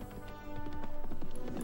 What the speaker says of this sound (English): It's a horse again.